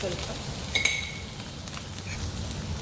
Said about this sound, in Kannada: ಅದನ್ನು ಚೆನ್ನಾಗಿ ರೋಸ್ಟ್ ಮಾಡ್ಕೊಳ್ಬೇಕು. ಲೈಟಾಗಿ ರೋಸ್ಟ್ ಆಗ್ತಿದೆ.